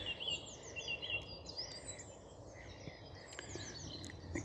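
A Garden Warbler or Blackcap sings faintly and at a distance outdoors, with quick, scattered high warbling phrases over a soft background hush.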